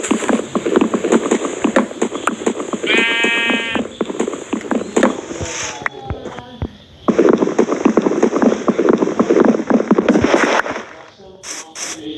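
Sheep in the Minecraft video game bleat in several clear, loud calls over a busy game soundscape of footsteps and clatter, with someone talking across much of it.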